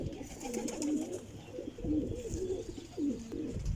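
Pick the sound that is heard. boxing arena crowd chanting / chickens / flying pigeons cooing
flying pigeons cooing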